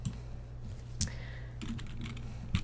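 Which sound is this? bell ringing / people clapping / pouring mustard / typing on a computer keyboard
typing on a computer keyboard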